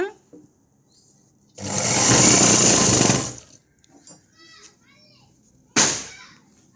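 A sewing machine stitches a blouse hem on green cloth, running in one loud sustained burst of about two seconds, followed by quiet shuffling and a second short, abrupt burst of stitching.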